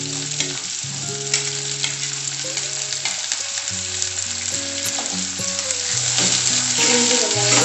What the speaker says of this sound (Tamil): பூண்டு வெங்காயம் நல்லா வதங்கணும்.